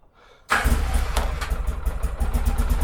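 Quad ATV engine fired up after a stretch of near silence, catching suddenly and settling into a loud, steady, throbbing idle close by, with no talking.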